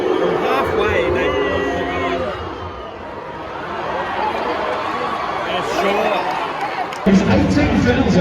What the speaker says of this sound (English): Pretty good crowd here.